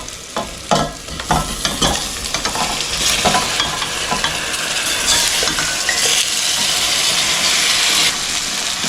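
Country chicken frying with spices in a pan, with a loud close sizzle and hiss. Sharp stirring knocks come early, then the frying settles into a steady rush.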